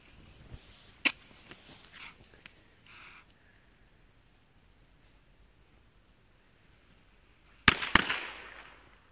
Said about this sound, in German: jetzt kommen deutsche Knaller, Reibkopfknaller von Weco Feuerwerk